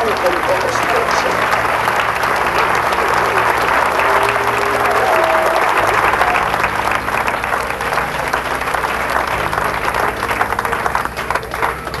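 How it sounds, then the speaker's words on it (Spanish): Church congregation applauding together, a dense, steady wash of clapping sustained for the full twelve seconds, with voices and faint music mixed underneath. "Den un aplauso al Señor con todo su corazón."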